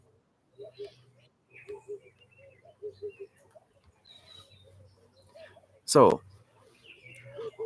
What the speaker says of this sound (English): I like the sound of the birds.